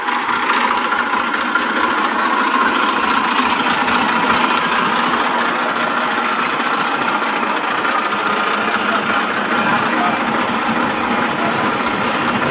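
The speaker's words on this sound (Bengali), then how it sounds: "গাড়ির ইঞ্জিন সাউন্ড তো আপনারা শুনতে পারতেছেন" An Eicher 480 tractor engine with hydraulics runs steadily at idle, a loud, unbroken diesel drone with a faint knocking texture, heard alone.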